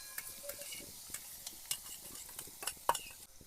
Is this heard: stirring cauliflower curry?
yes